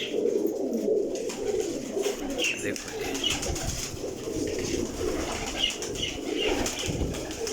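A large flock of pigeons coos in soft, continuous overlapping calls, with occasional wing flutters, while someone talks briefly nearby.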